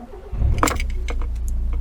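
A 1992 Nissan Micra GSX with a carburetted 1.2 litre K10 engine and auto choke cranks briefly and fires, settling into a steady close idle, with a key jingle at the start.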